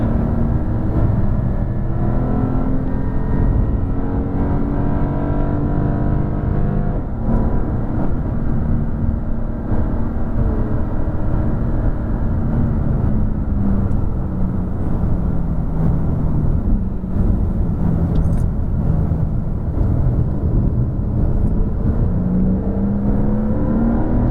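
Porsche on a race track powering out of a corner and down the straight, a loud continuous engine drone whose pitch climbs and sweeps steadily for over twenty seconds with no break.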